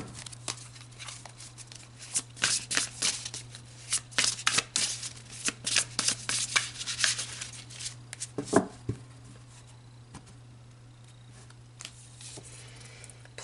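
A tarot deck is shuffled in bursts of quick, crisp riffling flutters up close, with a brief tap toward the end and then quiet, with no speech.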